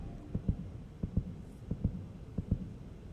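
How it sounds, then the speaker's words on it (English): A heartbeat thumps in steady paired beats, lub-dub repeating about four times, low and muffled over a faint hum. "Heartbeat."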